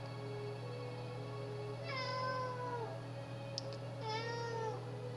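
Two drawn-out meows from a nearby indoor cat rise and fall in pitch, separated by a short pause, over a constant low hum and quiet game audio.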